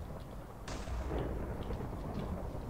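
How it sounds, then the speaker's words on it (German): A deep explosion booms in Minecraft during a Hunger Games match, a sudden burst then a sustained low rumble rolling on for a couple of seconds. "Leute, hier ist irgendwas explodiert."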